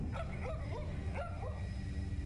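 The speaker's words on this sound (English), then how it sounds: "walking past this cage triggers a barking dog" A dog in a cage in the luggage room of Counter-Strike barks in a run of short, yipping bursts, repeating several times over a constant low game hum, with no talking.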